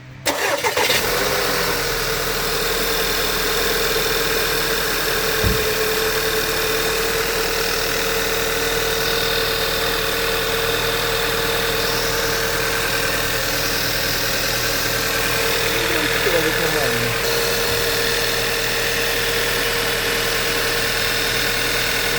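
An automatic all-wheel-drive 2014 VW Tiguan engine cranks and catches at the start, then settles into a steady, even idle that drones on close by for the rest of the clip with no talking.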